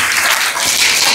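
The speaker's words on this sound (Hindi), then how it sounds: "तालियां तो भैया भी एक बार" Audience at a Republic Day program breaking into a short, loud round of dense clapping.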